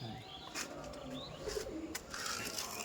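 Madrasi pigeons in a loft coo softly at a distance, with low gurgling calls recurring over quiet ambient noise.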